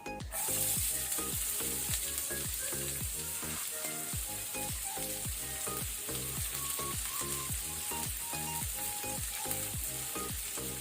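Sliced onions fry on medium flame with a cinnamon stick in oil for a chicken gravy. A loud, steady sizzle runs throughout, with quick, regular stirring strokes close to the pan. There is no speech.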